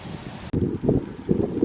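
Gusting wind sweeps across a waist-high flowering rye field, a steady rushing roar and rumbling microphone buffet that drops briefly before surging back in stronger gusts.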